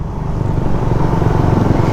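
Air-cooled, carbureted Suzuki Raider 150 motorcycle engine idling or running close by, a loud, steady low-pitched chug with a rapid pulsing rhythm and no talking over it.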